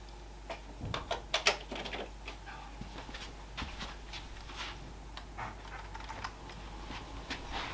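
Someone types on a computer keyboard at close range, an uneven burst of clicky keystrokes that comes loudest early on and then settles into softer, scattered taps over a low constant hum, with no talking.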